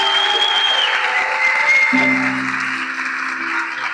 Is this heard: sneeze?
no